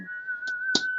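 A single steady whistle tone held through the whole second, with two short bursts of noise breaking in over it.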